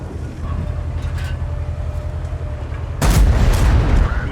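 Tank cannon fire in a tank video game, with a low rumbling engine bed that gives way to one loud, close booming shot near the end, its blast echoing and decaying.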